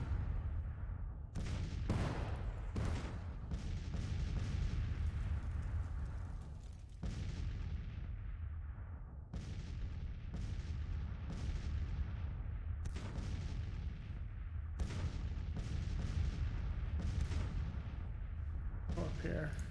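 Counter-battery artillery fire in a Civil War video game booms again and again over a constant rumbling battle bed. The heavy reports sound at irregular intervals through the whole stretch.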